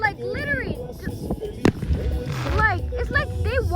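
Fireworks bursting outdoors, with a sharp bang near the middle standing out above loud, overlapping voices of people talking and reacting throughout.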